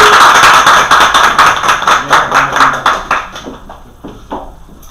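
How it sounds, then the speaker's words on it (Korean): An audience at a Korean health lecture forum bursts into loud, dense applause to welcome the lecturer, the clapping holding strong before thinning into a few scattered claps as it fades. "다시 한번 우리 박수 큰 박수로 우리"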